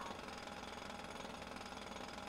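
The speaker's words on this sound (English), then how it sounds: "Everybody on here is drilling into the ground." Jackhammer-like drilling into the ground in a roleplay game, a continuous dense rattling roar holding steady and fairly loud throughout, with no talking.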